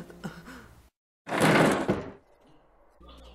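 A door slams hard once, a loud heavy thud with a short rumbling tail, between stretches of quiet talk and room noise.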